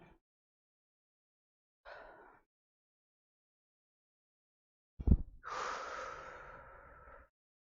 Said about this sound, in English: You guys can probably hear me breathing through this mic